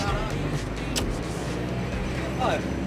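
Car driving through busy city traffic in Morocco: steady engine and road rumble fills the cabin, with passing vehicles and faint voices underneath.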